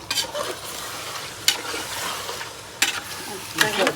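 A large pot of vegetable pulao, about four kilograms, is stirred over heat: a low sizzle runs throughout while a spoon scrapes and clatters in several distinct strokes, close by, with no talk.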